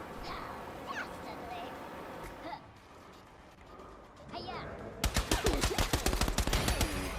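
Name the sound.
gunfire in a gunfight, from a video game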